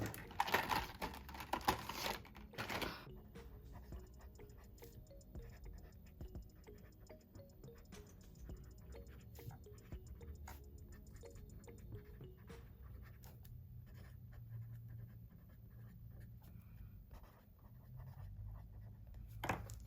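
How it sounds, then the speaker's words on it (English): A Sharpie S-Note marker writes across paper, giving a soft, continuous scratchy rustle with small pauses between strokes, close and fairly quiet, after a brief louder handling noise at the start. "let's do some writing"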